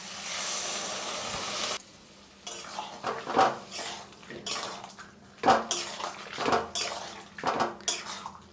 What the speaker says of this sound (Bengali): জল দিয়ে দিব।